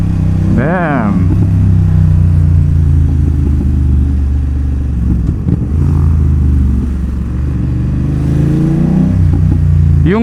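A BMW F900R motorcycle engine revs up and drops through gears in loud rising and falling sweeps, heard close from the rider's position with wind noise, engine droning steadily between shifts.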